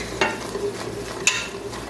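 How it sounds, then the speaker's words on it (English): A spoon scrapes and stirs through a bubbling pot of boiling orange jelly as sugar is drizzled in, with soft sizzling and a couple of brief clinks against the side. "I'm just going to drizzle it in and keep stirring while I do that"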